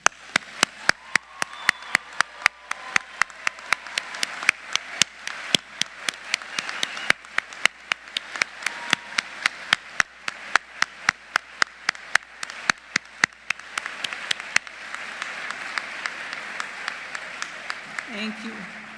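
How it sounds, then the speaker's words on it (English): An audience applauds graduates at a college of pharmacy hooding ceremony: a long, steady round of crowd clapping runs throughout, with sharp rhythmic claps standing out near the front before the applause thins toward the end. "round of applause."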